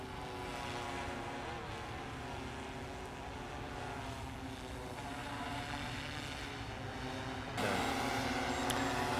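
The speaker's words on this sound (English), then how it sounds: "The drone will ascend to its target altitude of 150 feet" A DJI M200 drone climbing toward a 150-foot altitude gives off a steady, loud multi-rotor buzz with layered tonal whine. It holds constant throughout and grows brighter and louder near the end, with no voices.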